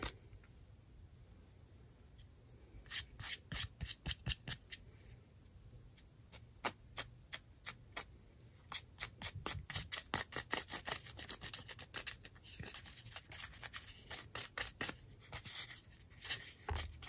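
Fingers rubbing excess paint off a moulded Christmas ornament made with IOD moulds, giving quick rhythmic bursts of close, dry scratchy rubbing that come in clusters and grow denser toward the end.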